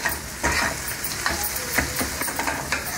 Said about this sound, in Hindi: अंडे को इस तरह से चम्मच चलाते हुए पकाएंगे आप